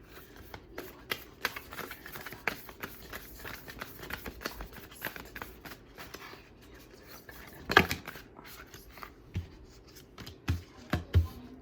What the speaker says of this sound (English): I like to shuffle them.